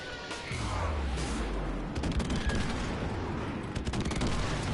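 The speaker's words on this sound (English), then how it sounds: "Friendly airstrike on the way." A friendly airstrike in Call of Duty Modern Warfare Remastered, heard as a dense roll of booming blasts and crackling fire that swells and holds steady at moderate distance.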